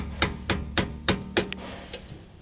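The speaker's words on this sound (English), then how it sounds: "Then we're just gonna hit it with a hammer" A hammer strikes the tie rod boot clamp on a 2021 Nissan Sentra, five sharp metallic blows in quick even rhythm, close and clear, followed by a lighter tap as it comes loose.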